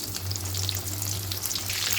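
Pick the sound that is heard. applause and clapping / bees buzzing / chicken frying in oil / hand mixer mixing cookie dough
chicken frying in oil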